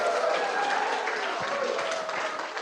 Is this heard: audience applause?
yes